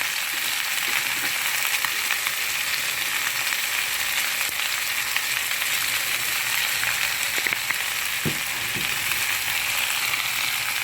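Chicken feet frying in a pan with a steady, dense sizzle and occasional scraping of a utensil as they are stirred, continuous and close with no talking.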